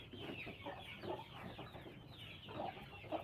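Hens on a small farm give soft, scattered clucks at a distance, a few short bursts spread across the moment over faint background hiss.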